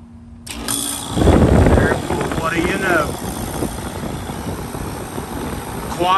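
A residential HVAC condenser fan motor starts up and keeps running with a steady whir and blowing air, and a voice talks over it close to the unit.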